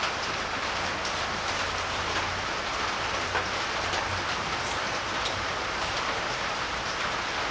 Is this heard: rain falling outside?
yes